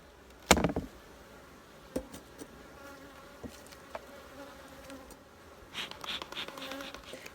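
Honey bees buzz around an opened polystyrene beehive during a honey harvest. The hum is soft and continuous, with occasional nearby fly-bys. Clicks and knocks from handling the hive sound close by, and a louder thump comes early on.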